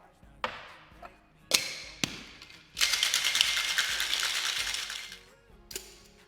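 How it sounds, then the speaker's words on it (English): A pumpkin martini of Irish cream, vanilla extract and pumpkin puree is shaken hard in a cocktail shaker, a sustained rattling whoosh of about two and a half seconds after a few sharp knocks and clinks. "Now it's time to shake this bad boy up."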